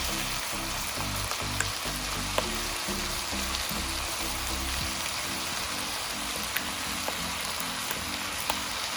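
Chicken and egg fry in a pan for chicken fried rice, a steady close sizzle with faint pops and crackles, heard alone with no talk.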